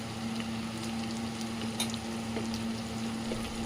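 Masala of chili powder and salt sizzles steadily in a pan, a soft continuous frying hiss with faint stirring clicks, heard close and alone.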